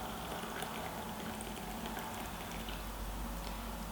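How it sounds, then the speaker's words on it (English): Coffee from a cafetiere being poured into a cup, a quiet, steady liquid trickle and splash that runs continuously without any talking. "we're going to pour that out into the cup and enjoy"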